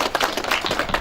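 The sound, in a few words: audience applauding at ribbon-cutting office opening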